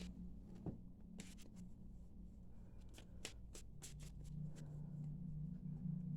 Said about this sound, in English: Ah, a little quick shuffle.